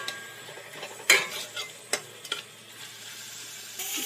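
Minced mutton stir-fried with salt in a pan, a soft sizzle with a few sharp scrapes of a spoon against the pan, close and fairly quiet, with no talking.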